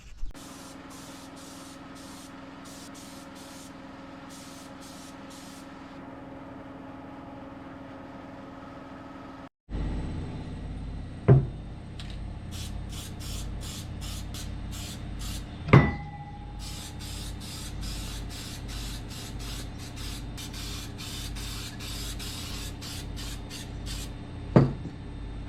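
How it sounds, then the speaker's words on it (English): Professional acrylic lacquer sprayed from a can in short bursts of hissing, with a steady background hum, a few sharp knocks and clicks between passes. "just used some professional acrylic lacquer"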